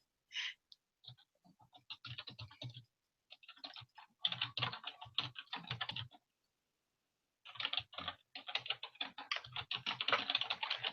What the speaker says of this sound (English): I'm just typing real quick.